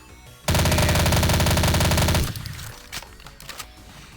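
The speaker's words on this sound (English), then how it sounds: "This MP40 is pretty cool. It's really fast firing" Rapid automatic fire from an MP40 submachine gun in a DOOM/Zandronum game mod, a loud, dense burst of evenly spaced shots lasting nearly two seconds, followed by fading echoes and a few scattered clicks.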